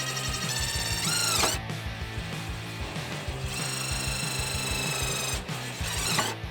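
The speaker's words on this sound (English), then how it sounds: "Big old self-tappers, and I'll just hold it in place and send these through." A power driver sends big self-tapping screws into the inner fender of a Toyota Tacoma, giving bursts of whirring, ratcheting drive with sharp rising whines at the end of each screw, close and loud.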